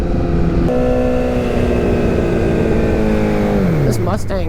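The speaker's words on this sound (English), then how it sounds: "This Mustang came out of nowhere." A Ford Mustang drives past close by, its loud, steady engine drone falling sharply in pitch as it goes by near the end.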